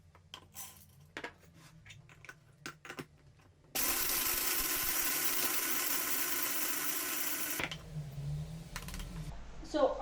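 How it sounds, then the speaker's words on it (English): Whole peeled horseradish root is rubbed against a metal grater in a steady, loud, continuous rasping scrape lasting several seconds, preceded by light clicks and kitchen handling noises and followed by softer shuffling. "I will take the horseradish and peel it and shred it with a grater"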